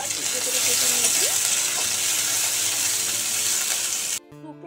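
Chopped onion and garlic frying in white oil, a loud steady sizzle that fills the pan for several seconds before cutting off abruptly near the end, with no voices over it.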